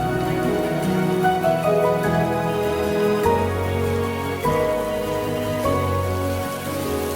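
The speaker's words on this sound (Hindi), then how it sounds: "बारिश।" Rain falls in a TV drama scene as a steady, even hiss layered beneath a sustained, slowly shifting musical score.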